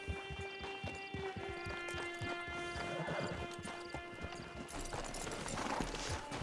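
Horse hooves clip-clopping steadily in the Red Dead Online video game, a close, regular trot over a bed of ambient game sound and a sustained musical drone.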